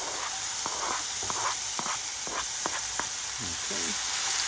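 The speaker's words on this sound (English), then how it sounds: "Once the garlic starts sizzling" Minced garlic and shallots sizzle in olive oil in a saute pan, a steady close hiss with scattered sharp crackles and pops throughout.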